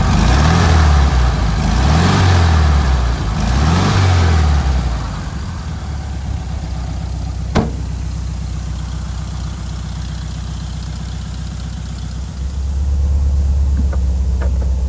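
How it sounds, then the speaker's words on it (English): A 1970 Volkswagen Karmann Ghia engine runs during a test drive, loud and close, rising and falling through several revs before settling into a steady drone and swelling again near the end. "To hop in here and take it for a ride, show you how it handles down the road."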